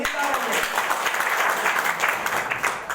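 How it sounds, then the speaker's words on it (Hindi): Dense applause from a crowd fills the clip, steady and loud throughout with a broadband clatter of many hands. "चलिए जोरदार ताली"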